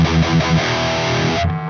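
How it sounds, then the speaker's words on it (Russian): Heavily overdriven electric guitar through a Soldano SLO-100 amp-simulator plugin, a loud, thick distorted riff with choppy chugs that settles into a sustained chord before cutting off. "Единственное, что теперь очень много перегруза."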